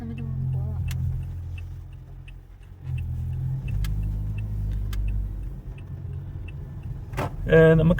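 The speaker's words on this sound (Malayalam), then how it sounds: "ട്രാഫിക് ഇവിടെ" Low rumble of a car moving through road traffic in Christchurch, heard from inside, with a person talking over it and occasional faint clicks.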